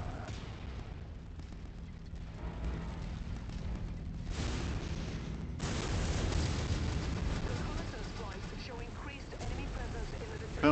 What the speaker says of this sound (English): A heavy cannon.